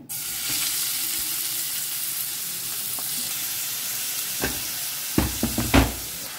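Onions going into about three spoonfuls of heated oil for a Goan crab stuffing, giving a steady frying sizzle with a few louder bursts and pan knocks near the end.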